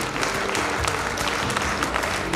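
An audience at a festive celebration in a culture centre applauds in a steady burst of clapping from many hands, sustained throughout with no pause.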